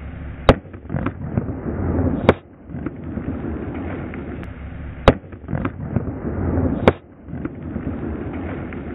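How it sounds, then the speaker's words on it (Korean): Large chunks of sodium explode in a bucket of water, giving four sharp, loud bangs spaced a couple of seconds apart, with fizzing and crackling between the blasts. "여기 있는 양동이에다가 가장 큰 나트륨 덩어리들을 폭발을 시켰고요"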